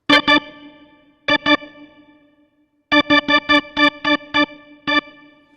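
Electric guitar with overdrive, chopped into short distorted chord stabs in bursts, with a lingering tone between groups and a brief silence before a rapid run of hits.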